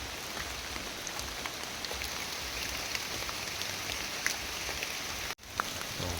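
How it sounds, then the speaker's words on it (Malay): Steady rain pours down in a jungle near a base camp, a dense continuous hiss with scattered drop patters, alone and unbroken until a brief cut near the end. "Hujan guys, hujan."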